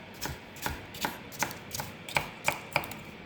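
Round okra from a home garden chopped on a board, about nine crisp, evenly spaced knife strikes landing close and clear with no voices.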